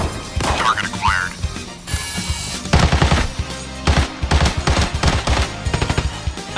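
Gunfire in the shooter game Arena Breakout, with loud, sharp shots in short rapid bursts and single cracks spread across the stretch, alongside other game noise.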